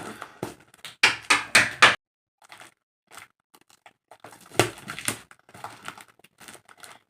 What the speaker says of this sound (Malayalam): ബോക്സ് തുറക്കാട്ടോ